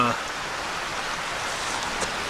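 A small cascade on Tom's Creek trail in the Delaware Water Gap rushes in a steady, even wash of water noise that fills the background.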